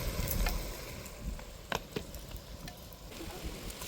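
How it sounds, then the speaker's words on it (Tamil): Mutton curry bubbling in a pot over a wood-fired stove outdoors in a garden, a steady low simmering hiss with a few sharp ticks and pops, close and fairly quiet throughout. "நல்லா குழம்பு கொதிக்குது."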